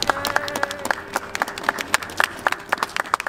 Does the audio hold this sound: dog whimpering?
no